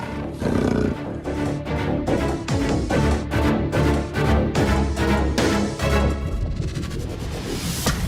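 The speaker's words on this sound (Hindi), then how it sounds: "इस तेंदुए की दहाड़ सुनिए" A leopard roars in a series of repeated, rasping pulses, loud and close, in a steady rhythm that lasts throughout.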